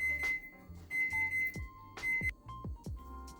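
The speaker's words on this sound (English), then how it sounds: "So that's my timer, you guys. Let me go ahead and turn that off" A skincare timer beeps in a home setting during a facial steaming routine, sounding a few short electronic tones in uneven bursts mixed with soft knocks and handling clunks, no talking.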